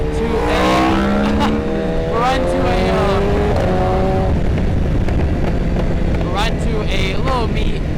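Sport motorcycles ride on the road to a car meet, with engines droning and revs rising and falling in pitch as they shift and accelerate. Strong wind rush fills the background, and a rider talks over the engines.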